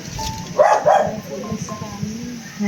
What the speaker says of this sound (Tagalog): Nagagalit sa inyo yung aso.